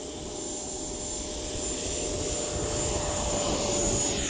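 Remote control EDF jet taking off, a loud steady high-pitched ducted-fan whine with a strong jet-like rush that builds slightly in intensity, heard alone without talk.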